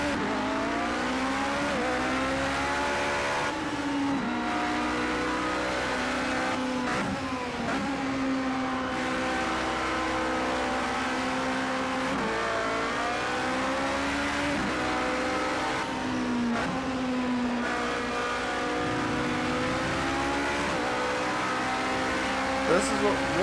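Le Mans prototype race car engine in the Project Cars 2 racing game, revving loudly and steadily with rising pitch sweeps as gears shift through corners, a continuous close engine drone throughout.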